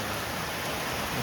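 Heavy rain pours in a dense, unbroken roar, loud and close, with no pauses.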